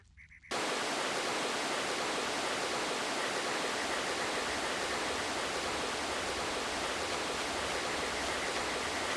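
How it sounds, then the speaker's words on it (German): Running water in the game Dark Cloud, a dense, steady rushing like a strong stream or tap, starting abruptly after a short quiet moment and continuing loud and unbroken. "Das Wasser läuft."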